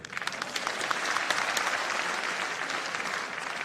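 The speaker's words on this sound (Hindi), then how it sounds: "ट्रांसफरों से भी ज्यादा तालियां बजी है साहब" Large audience at a state-level teachers' award ceremony breaks into dense, sustained applause, loud and continuous throughout, with a few sharper claps standing out in the crowd.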